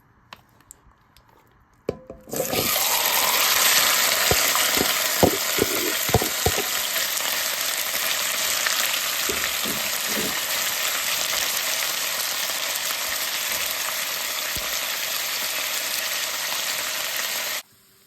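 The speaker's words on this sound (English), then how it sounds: "I'm going to begin by browning the beef on medium-low heat" Beef browning in a pot over medium-low heat, a steady loud sizzle that starts abruptly and holds evenly, broken by a few scattered clicks and stirring knocks early on.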